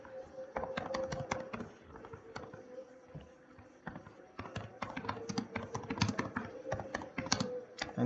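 A C program statement typed on a computer keyboard, with quick bursts of close key clicks and brief pauses between them, no speech.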